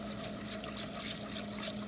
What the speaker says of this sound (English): Now we're going to add the milk.